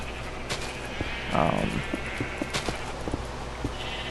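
A single sheep bleats in the Minecraft video game, a short bleat in the middle over quiet background sound, with faint talk nearby.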